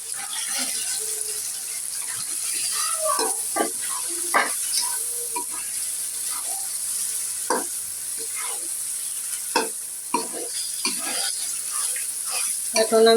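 Goat mutton added to hot oil cooked down with spices sizzles steadily in the pan, broken by intermittent scraping and clinking of a stirring spoon, close and continuous throughout.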